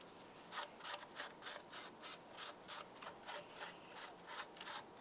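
Someone scrubs the throttle body mating surface of a plastic intake on a 2010-2013 Ford Transit Connect, making about a dozen faint, even back-and-forth rubbing strokes at a brisk rhythm.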